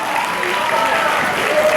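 An audience applauds warmly to welcome a guest onto a stage, a steady dense wash of clapping lasting throughout with a faint voice or tone threading underneath.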